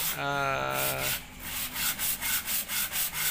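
Sandpaper rubs back and forth across the surface of a Vario scooter radiator in a rapid, even series of close rasping strokes, following a brief tonal sound at the start.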